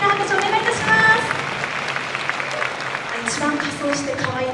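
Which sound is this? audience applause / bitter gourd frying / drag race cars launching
audience applause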